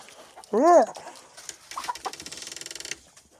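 A rooster gives one loud, sharp alarm squawk as a large hawk passes overhead, followed by rapid, agitated clucking and a burst of fluttering noise that fades.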